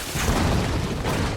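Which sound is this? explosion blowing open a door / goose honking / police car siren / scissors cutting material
explosion blowing open a door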